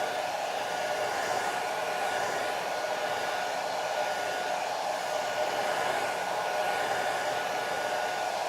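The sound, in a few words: blow dryer drying a watercolor painting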